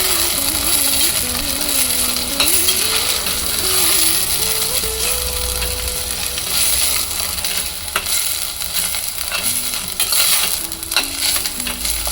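A spoon scrapes and stirs green coriander and sprouts rice in a hot pan, steady sizzling and clinking close by, with a tonal melody running underneath.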